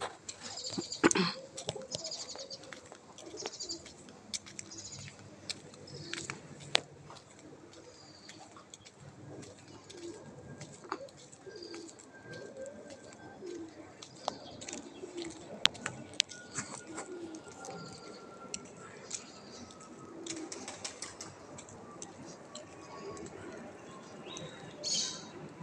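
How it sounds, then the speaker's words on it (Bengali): Pigeons coo softly and intermittently on a quiet morning street packed with the birds, mixed with scattered chirps, faint traffic and occasional knocks and rustles. "এখানে শুধু পায়রা ভর্তি"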